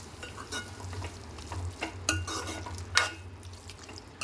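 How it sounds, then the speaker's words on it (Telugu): Cabbage tomato curry with fresh coriander being stirred in a pan just after the stove is switched off, soft scraping and clinking strokes over a gentle sizzle, close and fairly quiet, with no talking. "కొత్తిమీర వేసుకొని స్టవ్ ఆఫ్ చేసి ఒక్కసారి మొత్తం కలిపేసుకున్నామండి."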